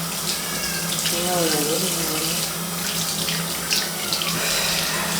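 Tap water runs steadily into a sink, left open so it can warm up before washing a face; a close, continuous splashing flow fills the whole stretch without pause.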